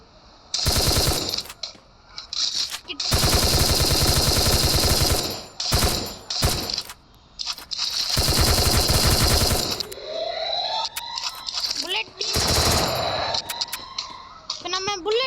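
Loud automatic gunfire in the Free Fire mobile battle royale game: long sustained bursts, several shorter ones and scattered single shots, with a voice talking in Tamil between and over them.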